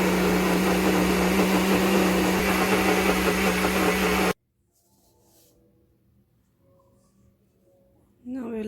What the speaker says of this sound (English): Now I will make powdered sugar with 1 cup by putting it in the mixer.